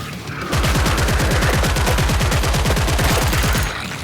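Sustained rapid automatic gunfire from the video game Killing Floor 3 hammers loudly and evenly for about three seconds, with no talking.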